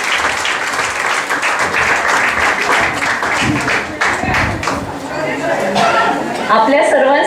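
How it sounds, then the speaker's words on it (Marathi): An audience at a community programme breaks into loud, sustained applause, dense clapping that fills the room, while people talk and chatter underneath and the clapping thins toward the end. "एकदा प्लीज त्यांच्यासाठी जोरदार टाळ्या होऊ द्या."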